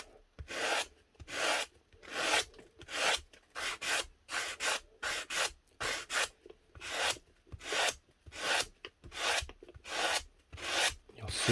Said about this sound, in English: The other thing is just take off this bit of corrosion. Just use a sanding block for this,